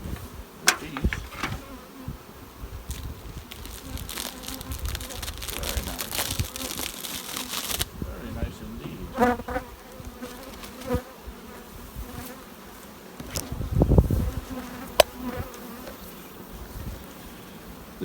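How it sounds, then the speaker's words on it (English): Many honey bees hum and buzz steadily nearby, a dense droning swarm bearding outside an opened hive, with occasional clunks and rustles of handling equipment. "Substantial amount of bees outside the hive, bearding."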